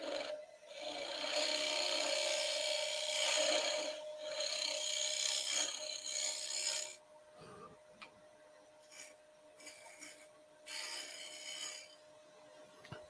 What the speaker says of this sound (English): I'm going to really have to sand that first